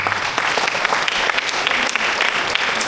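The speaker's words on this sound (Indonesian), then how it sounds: "Tepuk tangan." Audience clapping steadily at a leadership talk, a dense, continuous round of applause from a crowd with no voices over it.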